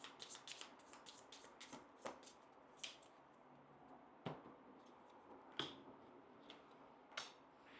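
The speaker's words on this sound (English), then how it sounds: "shuffle our deck and draw 2 more cards." A deck of board game cards is shuffled and handled close by, with quiet riffles and crisp card snaps spaced irregularly over a soft, otherwise silent background.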